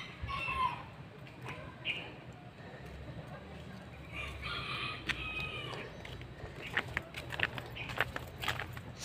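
Small chickens at an outdoor zoo in Vigan, Ilocos Sur, with a rooster crowing and clucking amid a busy ambient background, scattered footsteps and faint distant voices throughout.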